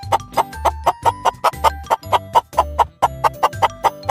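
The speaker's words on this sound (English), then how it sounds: "let's talk about the clucking chicken." A chicken clucks rapidly and rhythmically, close and loud, in a continuous string of short bursts over a faint sustained tone.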